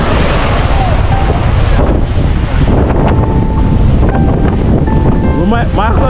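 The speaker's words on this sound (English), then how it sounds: "Look at those waves." Loud, constant wind buffeting the microphone and rough sea waves crashing during Hurricane Melissa near Portland, Jamaica, with a boat nearby. The roar fills the whole clip, and a voice speaks briefly near the end.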